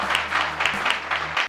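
Applause for a correct answer at a Ramayana quiz competition, brief rhythmic clapping in distinct beats over a low steady hum, cutting off abruptly.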